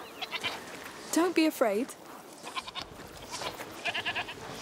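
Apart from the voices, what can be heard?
goat Lucinda bleating in video game A Plague Tale: Requiem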